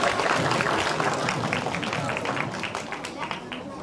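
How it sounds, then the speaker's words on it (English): Concert audience clapping steadily to encourage children about to play percussion instruments, a dense, sustained applause filling the hall. "Can we give them a clap to encourage them?"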